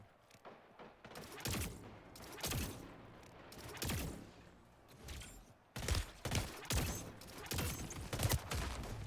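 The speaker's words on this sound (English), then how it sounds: "Let's try this pistol." Pistol shots in the shooter video game Splitgate 2 ring out as sharp, separate reports, a few spaced shots followed by a quicker cluster, close and punchy with no voice over them.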